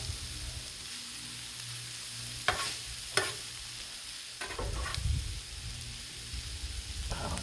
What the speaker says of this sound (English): oh, there it goes. The onion on the griddle.